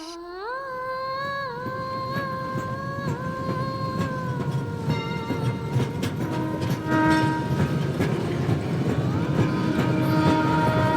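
A passing train sounds a long, loud multi-tone horn or whistle that holds for several seconds, over the continuous rumble and clatter of the wagons rolling by nearby.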